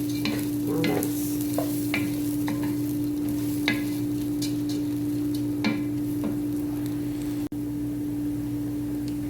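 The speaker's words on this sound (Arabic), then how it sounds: "انا عايزه ادي الرز تشويحه كمان كده مع العدس" Rice being stir-fried with lentils in a pot for a simple Egyptian dish: steady close sizzling with a spoon scraping and stirring in irregular strokes over a constant background hum, no talk.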